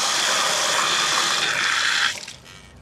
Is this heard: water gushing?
yes